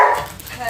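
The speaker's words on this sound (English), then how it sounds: "Hey, no barking." A dog lets out a single short, loud bark close by, sharp and brief, outdoors in a yard.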